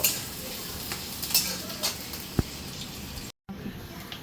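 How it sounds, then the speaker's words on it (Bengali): Onions sizzle steadily in a pan for egg curry, a close, continuous frying hiss broken by a few scrapes and taps of a stirring spoon against the pan. "তো প্রথমে আজকে আমি পেঁয়াজটা একটু ভেজে নেব।"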